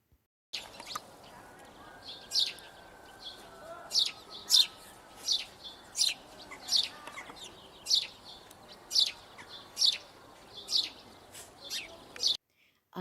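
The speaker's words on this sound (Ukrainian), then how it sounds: "Давайте послухаємо, як співає горобчик." A house sparrow chirps repeatedly, short bright cheeps at a steady pace, one or two per second, against a soft outdoor background hiss.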